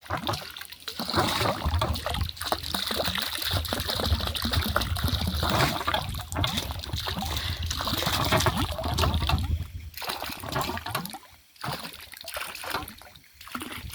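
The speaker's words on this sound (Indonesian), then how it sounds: "Airnya langsung dari Gunung Tampomas" Mountain spring water from Gunung Tampomas pours into a village holding tank, a continuous close rushing and splashing that stays steady throughout, with a brief quieter dip near the end.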